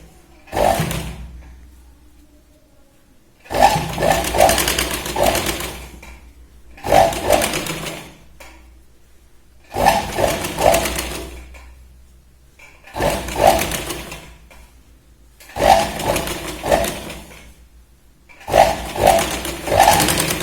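A sewing machine runs in seven short bursts of a few seconds each, stitching a sleeve onto the shoulder of a small girl's T-shirt, with quiet pauses between the runs and no voices.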